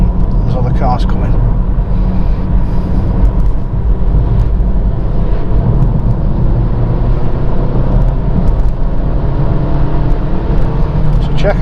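A car on the road during a driving lesson, heard from inside: a steady, loud low engine and tyre rumble runs throughout, with no clear change marking the braking.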